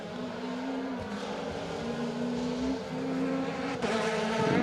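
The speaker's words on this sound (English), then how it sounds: "Gary, Oliver Shaw and Stephen Christie in there through in their Peugeot 208 R2" A Peugeot 208 R2 rally car on a Manx Rally stage passes at a distance, its engine note rising and falling through gear changes over several seconds, fairly faint against open-air background.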